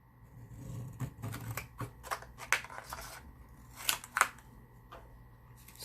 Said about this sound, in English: I had to trim the card down to fit the envelope